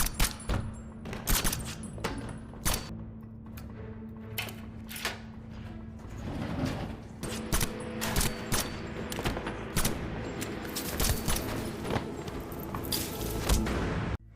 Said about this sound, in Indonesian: Jae-hook malah menembak para pengawal dengan brutal